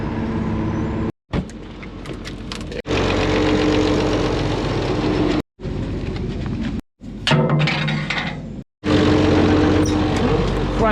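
A White 2-105 tractor engine fires up and runs at idle with a steady rumble, broken by several brief gaps, loud and close throughout.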